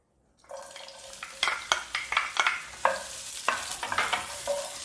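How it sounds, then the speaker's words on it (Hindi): Onions dropped into hot oil in a pan, starting with a sudden sizzle and followed by repeated stirring scrapes over a steady frying crackle, close and loud. "तेल अब गर्म हो चुका है तो अब हम इसमें प्याज डाल देंगे।"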